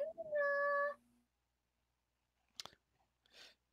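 A cat gives one clear, fairly close meow at the start, followed by near silence with a few faint clicks and rustles.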